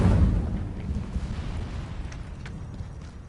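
A fiery Incendio spell goes off in a Hogwarts video game with a loud burst at the start, then a rumbling whoosh of flame that slowly fades, alone without talk.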